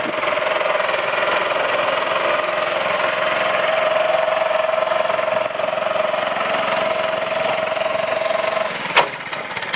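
An old junk tractor engine drives in first gear around a driveway, a steady loud mechanical drone with a sustained tonal whine throughout, ending in a brief clunk near the close.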